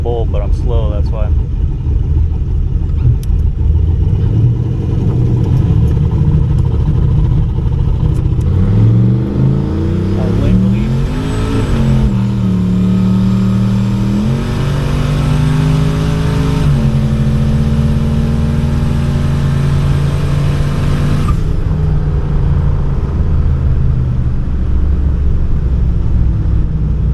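A drag car revs hard while scrubbing its tires after sitting all winter, at a streetcar shootout test day; loud rising and falling engine roars with tire noise, close and sustained, with talk mixed in.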